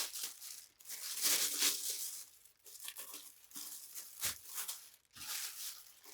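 Plastic bag crinkles and rustles in bursts as it is handled and smoothed, close and fairly quiet, with brief pauses between movements.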